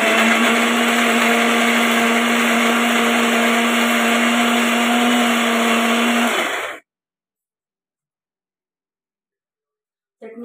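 A mixer grinder grinds garlic and green chilli chutney in a loud, steady whir that runs alone for nearly seven seconds, then cuts off into silence before a brief sound at the end.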